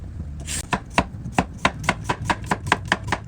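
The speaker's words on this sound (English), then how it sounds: "we're gonna start by cutting half a cucumber" A knife chops through half a cucumber on a board with a steady run of about a dozen crisp, close strikes, evenly spaced and with no talk.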